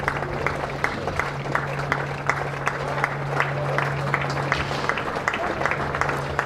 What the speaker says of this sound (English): I think we ought to let you hear some of the applause for Asib Hamid.